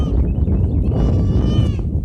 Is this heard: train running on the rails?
no